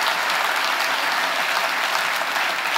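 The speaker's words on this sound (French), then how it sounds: "Vous pouvez les applaudir." Loud, continuous audience applause fills a mayor's New Year ceremony, dense and even from start to finish with no speech over it.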